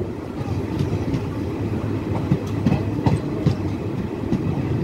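A train rolls past a rural level crossing after heavy rain, with a steady low rumble and rhythmic clickety-clack of wagons over the rails, loud and continuous throughout.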